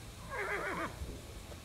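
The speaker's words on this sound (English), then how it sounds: "A horse? You're changing rides?" A horse whinnies once in the Western stealth game Desperados III, a short near call with a wavering, falling pitch, followed by quiet ambient noise.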